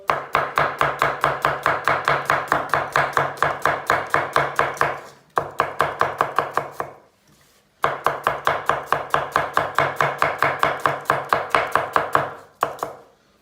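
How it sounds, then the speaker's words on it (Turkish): Rapid, regular knife chops of an onion on a cutting board, close and crisp, in two long runs separated by a brief pause, with no talking. "Soğanları fazla iri doğramıyorum"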